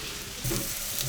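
Onions frying in a pan for Frikadellen meatballs give a continuous, close sizzle with faint crackles and stirring scrapes and no voices.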